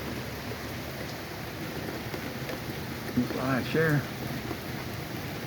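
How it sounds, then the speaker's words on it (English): Steady rain falls through an evening outdoors, a broad continuous hiss with no distinct thunder clap audible; a brief voice cuts in near the end. "so it's a steady rain. Just a steady rain."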